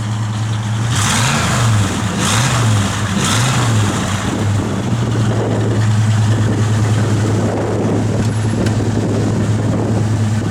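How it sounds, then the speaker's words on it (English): A 1940 Ford three-window pickup's engine idles steadily, then is revved in several quick rising and falling bursts close by, with some wind noise on the microphone. "Give it a little rev."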